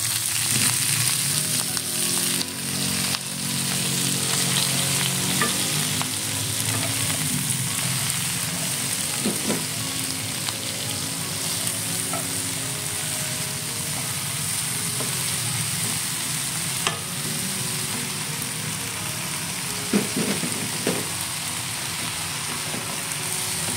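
Chopped mustard greens (sawi) sizzle steadily in a hot pan for a home-style stir-fry with omelette, with a constant loud frying hiss and occasional clanks of stirring throughout.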